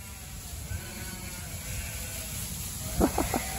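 Lambs bleat inside a barn, about three quick, close bleats near the end over a steady background hum.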